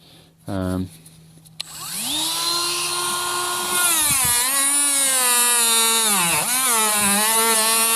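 Polishing a Ford 6.0L high-pressure oil ball tube (nipple cup) produces a close, steady high-pitched whine. It spins up after a brief low buzz and holds a wavering pitch, with a couple of dips.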